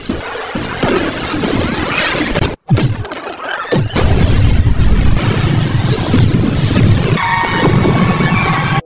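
Firecracker explosions in an animated battle between black and red ants: a dense, loud clatter of crashes, bangs and pops with a brief silent gap, then more bursts and a whistling zing near the end.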